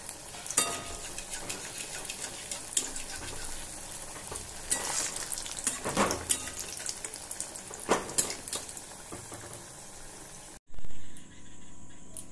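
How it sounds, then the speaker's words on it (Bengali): Mughlai paratha fries gently in oil over low heat, with a steady close sizzle and crackle broken by occasional louder spatters and utensil scrapes, then the sound cuts out near the end. "এবার এটাকে আস্তেই করে তেলের মধ্যে ছেড়ে দেব। এই যে কম আঁচে হালকা করে ভেজে নেব এটাকে।"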